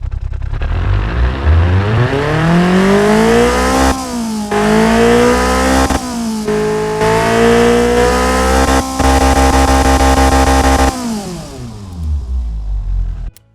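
A Ford Zetec SE inline-four with forged internals revs hard to 8000 RPM, loud and alone, its pitch climbing steeply, holding high with brief dips between pulls, then dropping back down at the end.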